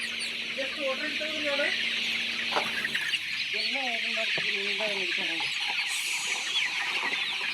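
Several chickens cluck and chatter on a poultry farm over a steady background hum, with repeated close calls from the flock and brief voices mixed in.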